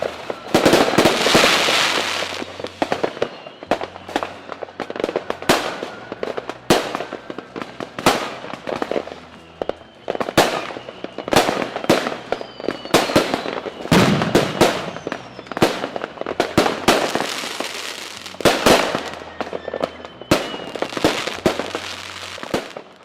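Fireworks at a lakeside evening salute on Lake Soro explode in a rapid, irregular series of loud bangs and crackles, continuing throughout with hardly a pause.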